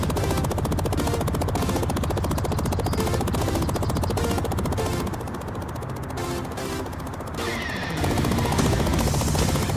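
A cartoon truck transforms into a drone, a loud, continuous whirring and rapid chopping effect that rattles steadily for several seconds and swells near the end.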